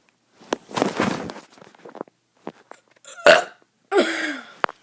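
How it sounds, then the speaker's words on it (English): A kid lets out several burps in short separate bursts, close and fairly loud, with quiet gaps between them and one longer, throaty burp near the end. "I'm doing some burps."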